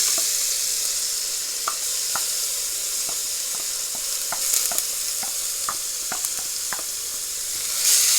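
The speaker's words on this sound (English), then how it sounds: "I'm just going to cook the onion for a couple of minutes." Onion sizzling in a hot pot on medium-low heat for stovetop butter chicken, a continuous close hiss broken by sharp, irregular clicks of stirring.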